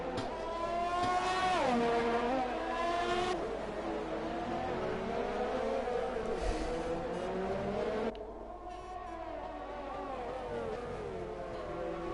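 An Alfa Romeo race car during a practice session at the Azerbaijan round drones past with a high, buzzing engine note that rises and falls through gear changes, loud and steady throughout, with no talking over it.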